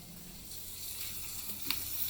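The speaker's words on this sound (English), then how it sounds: "yep, a sizzle" A soft, steady sizzle of chicken wings frying in a hot pot, with faint crackles and one brief pop.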